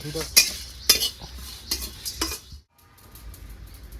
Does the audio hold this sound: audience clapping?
no